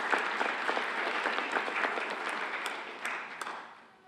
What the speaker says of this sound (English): So we want to give him a round of applause.